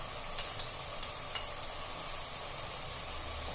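Masala spice mixture for a Punjabi tinda fry is stirred in a pan with a soft, steady frying sizzle, punctuated by a few light scraping taps near the start.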